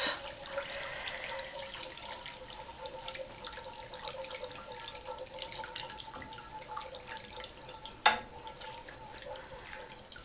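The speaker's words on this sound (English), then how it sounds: "And keep on whisking. so you don't have any lumps." A whisk scrapes steadily around a pan of gravy mixture, working out lumps for a breakfast croissant pizza, with a continuous close wet swishing and one sharper clink near the end.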